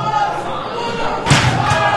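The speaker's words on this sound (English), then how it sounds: "The chair into the tree trunk-like legs of Juicy Finau." A steel chair slams into a wrestler's thick legs during a wrestling match, one heavy thud midway through, over a constant murmur of crowd noise with voices in the background.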